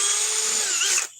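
An inexpensive 18-volt cordless power drill whines loudly at steady high speed with a slight pitch wobble, then cuts off abruptly near the end, leaving quiet.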